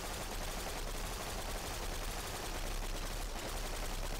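Rapid turret gunfire in the video game Cortex Command forms a dense, continuous crackling barrage with no gaps, a fairly quiet and distant-sounding wash of shots throughout.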